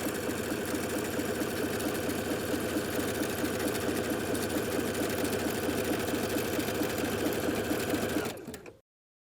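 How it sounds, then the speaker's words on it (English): A sewing machine hums continuously while running a zigzag stitch to form a lettuce hem on knit yoga pants. The rapid, even mechanical rhythm stays close and steady, then cuts off near the end. "I've completed the zigzag stitch to create the lettuced hem"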